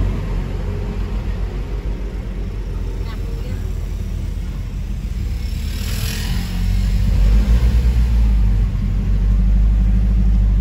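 Road traffic in Baguio City, a steady low rumble of car engines heard from inside a vehicle in a jam, growing louder toward the end with a passing engine swell; people talk intermittently.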